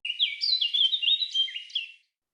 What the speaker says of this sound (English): birds chirping around.